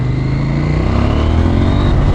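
A KTM 890 SMT motorcycle accelerates with a loud, close engine roar whose pitch climbs steadily as the revs rise, with no talking.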